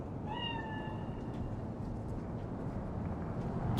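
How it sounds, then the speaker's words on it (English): A cat meows once in Cyberpunk 2077, a single rising cry near the start, faint and set over steady low ambient rumble and hum. "Chill, just a cat."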